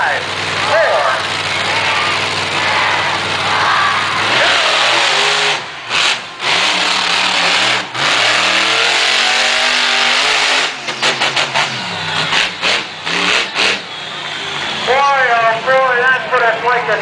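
Monster truck engine at an outdoor event revs and roars under loud continuous announcer commentary, with the engine note rising and falling and a sharp accelerating whine near the end.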